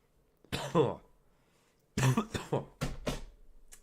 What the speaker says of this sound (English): Hate dry coughs, man.